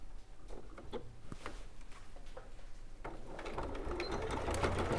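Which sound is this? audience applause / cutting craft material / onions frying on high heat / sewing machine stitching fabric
sewing machine stitching fabric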